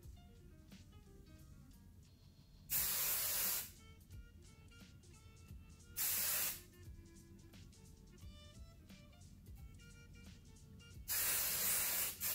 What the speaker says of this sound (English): we're gonna polish that with hairspray